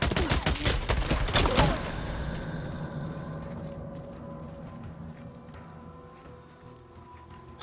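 Rapid burst of automatic fire from an M50 Reising submachine gun in the Days Gone video game, loud for under two seconds, then fading into a lingering echoing tail and quieter ambient rumble.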